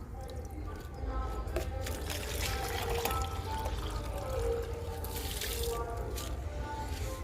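Liquid fertilizer poured onto potted plants, including fig and sweet lemon, a steady gurgling stream splashing into soil with drips, close, lasting several seconds with faint background sound.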